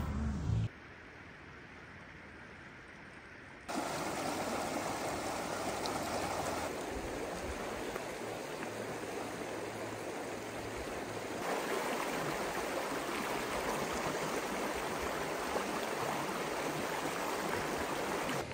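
A river flows beside a campsite on the Quirk Ridge, giving a steady rushing, babbling wash that stays loud and close throughout, with abrupt level changes between sections and no speech.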